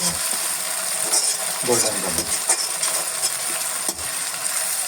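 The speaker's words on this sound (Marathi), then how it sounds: "मिक्स मिक्स मिक्स छान असं मिक्स करून घेऊया" Veg Manchurian ingredients with tomato ketchup being stirred in a pan, a steady sizzling hiss with scraping spoon strokes, while someone talks over it.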